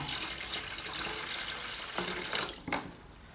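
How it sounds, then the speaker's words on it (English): Water pours steadily into a tub of paint being thinned for a mist coat on fresh plaster, a continuous rushing flow that ends in a few sharper splashes. "And then just put roughly the same amount of water in."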